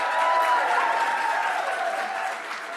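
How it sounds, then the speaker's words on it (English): Young people in a Unitarian church congregation cheer and applaud at an installation service, a dense sustained burst of clapping and cheering that fades slightly toward the end. "That's why she got such a big cheer from the young people."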